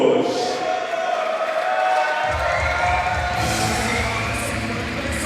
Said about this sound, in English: Nice round of applause here for Dominik Matusz of Poland.